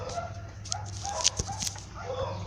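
A dog gives a few short, close barks and yips over quiet background noise.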